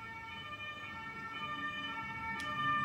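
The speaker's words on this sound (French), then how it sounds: "Je laisse passer l'ambulance," A distant ambulance siren passes, its steady tones faint and sustained beneath a quiet background hum.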